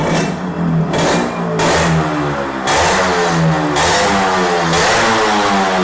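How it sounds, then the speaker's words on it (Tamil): Custom-restored Yamaha RX 135 two-stroke motorcycle with a custom expansion chamber exhaust revs loudly and close in repeated rising bursts, its sharp, raspy note dropping back between throttle blips. "இது சில்லிங் சவுண்டர் வந்து ரொம்ப ஷார்ப்பா இருக்கும். நான் ரேவ் பண்ணியும் காமிக்கிறேன்."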